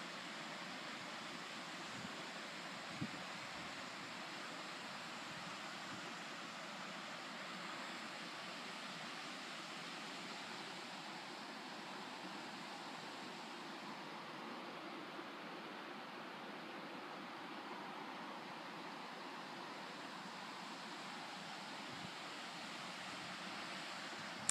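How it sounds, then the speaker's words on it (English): A waterfall roars as a steady, broadband rush of falling water, continuous and unbroken throughout, with a faint wind-like hiss on top, in a snowy, foggy setting during floods. "That's the waterfall."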